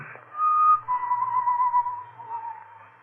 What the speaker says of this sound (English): The whistling was somewhere in the building.